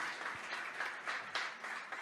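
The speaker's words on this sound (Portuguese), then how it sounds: "Você pode aplaudir o Senhor." A church congregation claps for the Lord during a worship service, a steady, dense patter of many hands that holds at an even moderate level throughout the short stretch.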